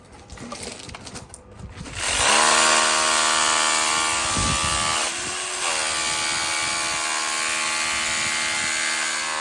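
After a couple of seconds of rough handling, an SDS hammer drill starts up on a patio and driveway job, then runs loud and steady as a continuous whine with a brief dip in pitch partway through.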